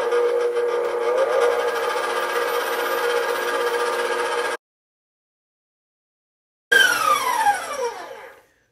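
An electric mixer whirs steadily on high speed while beating egg whites to stiff peaks, then cuts out for a couple of seconds before starting again with a rising whine.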